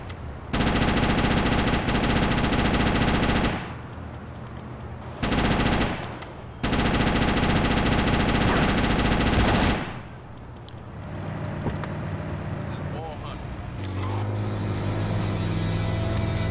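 Rapid automatic gunfire in the video game GTA Chinatown Wars, loud sustained bursts broken by short pauses, then fading into quieter game ambience with vehicle-like rumble at the end.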